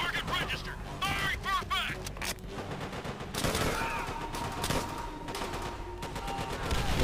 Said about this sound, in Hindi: अबे ऊपर से बड़ी गोलियां आ रही हैं।